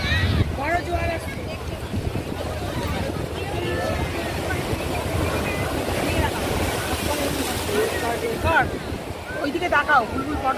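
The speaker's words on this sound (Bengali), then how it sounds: "দেখো জল কোথায় ছিটকাচ্ছে, জল যাবে, বড় জোয়ার আসছে।" Sea waves splash and wash ashore at high tide on Shankarpur beach, making a constant broad roar mixed with wind buffeting. Several people talk over the surf.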